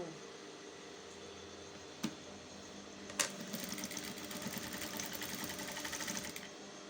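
A sewing machine runs close by, hemming a smocked, shirred dress with regular thread, a quiet steady whirring needle chatter starting after a couple of clicks and continuing evenly.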